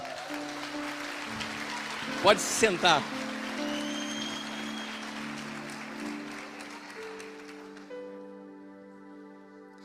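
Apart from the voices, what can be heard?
church audience applauding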